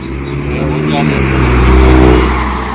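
A car engine drones and revs in a steady low rumble that swells gradually as the car drives, loud and continuous, with a faint voice mixed in underneath.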